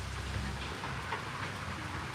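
Steady rain falling outdoors in a yard, an even broadband hiss with a low rumble underneath, continuous and fairly close throughout with no voices.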